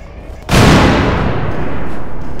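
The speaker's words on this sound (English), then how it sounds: "I just like the way how it shoots up gas propane tanks." Gunfire strikes propane gas tanks in the video game Garry's Mod, a sudden very loud close blast that bursts out and rolls on as a long roaring decay.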